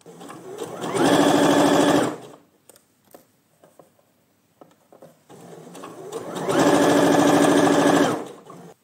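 Sewing machine stitching around the edge of a fabric bookmark, two loud steady bursts of close rhythmic whirring about a second long, separated by quiet handling and fabric rustle.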